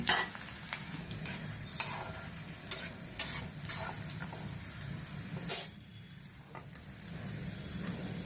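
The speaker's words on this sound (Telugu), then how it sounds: "ఆయిల్ మరిగిసిందండి వేడెక్కిపోయింది జీలకర్ర వెల్లుల్లి రబ్బలు చిన్న ముక్కలు కట్ చేసి పెట్టుకున్నాను పెంచి వేస్తున్నానండి" Chopped cumin and garlic cloves frying in hot oil for a Telugu ridge gourd fry, with a continuous close sizzle broken by repeated sharp spoon clacks and scraping stirs, with no talking.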